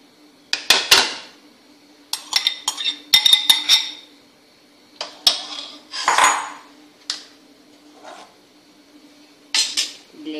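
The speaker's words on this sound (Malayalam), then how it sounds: "മിക്സിയിൽ അടിച്ചെടുത്ത സോസ് ഇതിലേക്ക് ഒഴിച്ചു കൊടുക്കുക." A metal pot clinks and clatters as blended homemade tomato ketchup sauce goes into a pan, with sharp, scattered knocks and rattles spaced across several seconds amid quiet between them.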